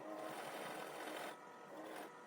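A sewing machine stitches along a fabric edge while tailoring a top's neck design, a fast, even mechanical whirr running close and steady, briefly easing partway through.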